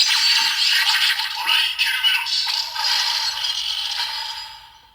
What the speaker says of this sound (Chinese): 我们来听一下启动音效